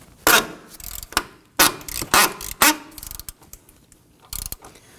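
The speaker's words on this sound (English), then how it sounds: "Use our ratchet to go ahead and break this free." Ratchet fitted with an 18mm socket working loose a front sway bar end link nut on a 2015-2024 Nissan Murano, heard as several sharp, loud clicking bursts with short gaps, close up and with no talking.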